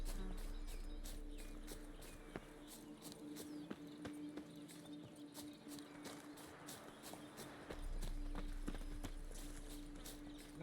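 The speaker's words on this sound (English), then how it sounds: "Wild horses." Horses in The Witcher 3 clip-clop at a walking pace, their hooves striking in a steady rhythm over a quiet game ambience with faint insect buzzing.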